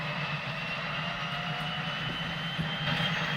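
An aircraft engine starting in the X-Plane 10 flight simulator, a continuous droning whine over a low steady hum, even and unbroken, with no voices.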